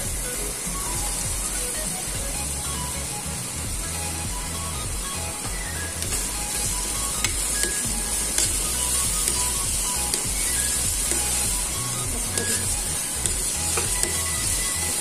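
Chili frying in hot oil for a Manchurian dish, a loud continuous sizzle and hiss that stays steady close by, with occasional crackles and stirring sounds.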